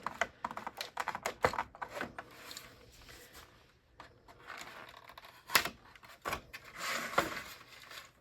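Plastic seed trays being cut, with a series of sharp snipping clicks and crinkling plastic crackles in irregular bursts, close and moderately quiet.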